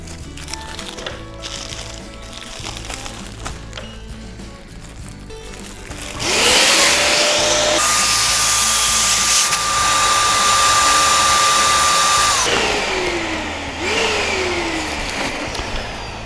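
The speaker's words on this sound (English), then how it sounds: "I'm going to inflate the foil head" An electric inflator loudly blowing air into a foil balloon head, starting abruptly with a steady whining rush that holds for about six seconds, then cuts out before brief spin-down whines.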